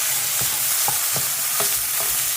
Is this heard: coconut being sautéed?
yes